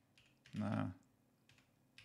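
Keystrokes on an Epomaker Alice DIY mechanical keyboard, a few sparse, quiet clicks with one heavier thock in the middle, close and isolated.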